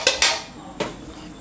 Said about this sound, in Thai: เดี๋ยวตรงนี้เราไปโขกกันดีกว่านะครับ